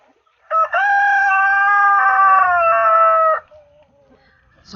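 A Black Australorp hen on a free-range chicken farm gives one loud, drawn-out crowing call lasting about three seconds, close by and clear, followed by quiet.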